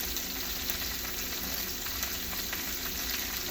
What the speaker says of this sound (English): Throw the butter in the pan on the oil.